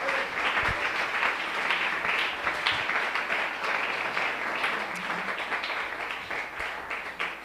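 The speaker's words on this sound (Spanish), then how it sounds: "Un aplauso para Él en esta hora." A church congregation at a Sunday school service breaks into continuous dense applause. Many hands clap together in a steady, moderately loud wash that holds evenly throughout.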